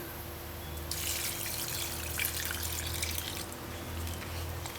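White rum poured into wine makes a steady liquid trickle lasting a few seconds, close and fairly soft, with no talk over it.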